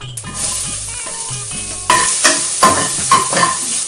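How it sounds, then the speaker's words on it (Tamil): Onions sizzle and fry in a pan for a Tamil horse gram recipe, with mustard seeds and urad dal already in the oil, steady hissing broken by several louder stirring bursts and clinks of a spoon against the pan, close up. "அந்த வெங்காயம் வந்து நல்லா அந்த பொன்னிறமா வரட்டும்."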